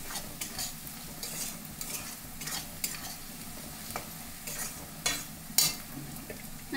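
Chili powder stirred into hot oil for chicken biryani, a soft steady sizzle with scraping spoon strokes and occasional louder clanks against the pan, no voices.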